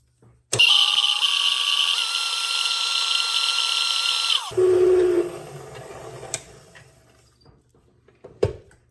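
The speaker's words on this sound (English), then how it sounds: "And now we will mix this." An electric mixer beats chocolate filling for a French silk pie. Its motor whines loudly and steps up in speed, then cuts off, followed by quieter scraping and a few sharp knocks against the bowl.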